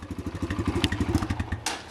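A 2020 Kawasaki KLX140 four-stroke dirt bike idles close by, its engine putting out a steady, rapid low putter with even pulses, alone and without talk, and a brief louder burst near the end.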